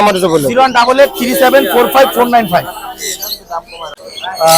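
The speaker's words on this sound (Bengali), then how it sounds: "এখানে চমৎকার কিছু পাখি আছে" Caged birds squawk and chirp in short bursts at the Mirpur 1 bird market, where local and foreign birds are sold, mixed with people talking close by.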